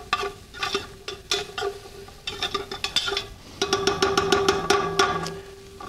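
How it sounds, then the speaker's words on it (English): Garlic sizzling in a pan on top of cooking onion while a utensil clacks and scrapes against the pan in quick, irregular strikes over a steady frying hiss, close and fairly loud. "My garlic's going to go in next on top of my onion."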